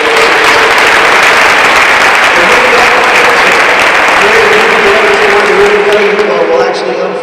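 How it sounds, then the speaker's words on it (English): Loud, steady applause from an audience at a ribbon-cutting ceremony, sustained crowd clapping filling the whole stretch with some voices mixed in and a slight tapering near the end. "How about a round of applause for Hendry County?"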